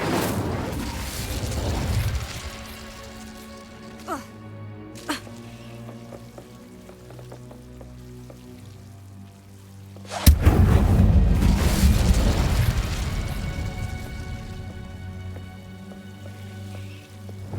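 Hogwarts Legacy Incendio fire spell bursts out twice, a loud whooshing blast near the start and another swelling roar later that crackles and fades, with sharp clicks and low rumbling ambience between.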